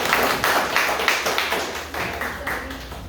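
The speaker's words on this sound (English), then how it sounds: "Let's give her a round of applause." Sparse clapping from a small outdoor crowd at a Tea Party rally in Cypress, Texas, welcoming a speaker, a short uneven patter of claps at fairly close range.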